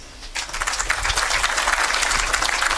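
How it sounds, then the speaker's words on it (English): Crowd applause at the official opening ceremony of the WRC Safari Rally Project HQ, starting after a brief quiet moment and holding as dense, steady clapping from many hands throughout. "give yourselves a round of applause"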